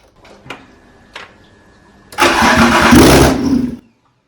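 A car with a newly swapped engine and a freshly fixed starter motor cranks in two short bursts, then fires and roars loudly for about a second and a half before cutting off abruptly, close and with no talking.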